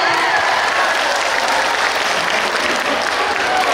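A crowd at a large religious gathering claps loudly and continuously, a dense, even wash of applause with no pauses through the short stretch.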